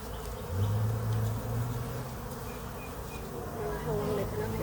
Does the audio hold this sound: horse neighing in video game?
no